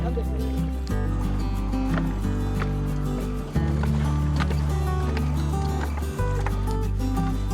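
A boat crossing a river near the Mymensingh–Meghalaya border gives off a loud, steady low engine drone close by, shifting pitch a few times, with faint water sounds underneath.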